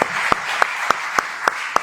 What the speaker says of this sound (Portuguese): a galera que vem da Marangatu aí merece uma salva de palmas